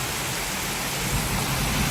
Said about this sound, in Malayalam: നല്ല മഴ മഴക്കാലം പോലെ മഴയായി കേട്ടോ